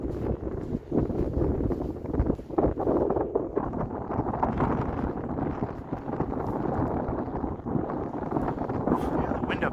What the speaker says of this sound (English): the wind up here, it's not very friendly